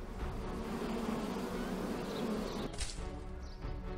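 Bees buzz steadily around a hive in the video game Summer in Mara, a dense, continuous drone held close and loud for several seconds before easing slightly near the end.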